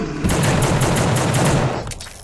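Rapid automatic gunfire in The Suffering: Prison is Hell, aimed at TNT, rattles loud and close in a steady burst of shots before cutting off and trailing into a quieter tail.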